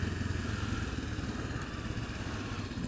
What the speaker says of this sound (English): I'm really enjoying this bike